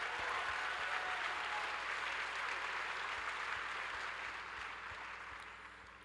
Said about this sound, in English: Let's give our temporary employees a big round of applause.